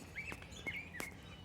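Small birds in a backyard give a few thin, high chirps spaced across a short stretch, faint and fairly distant over quiet outdoor background, with soft patter between calls.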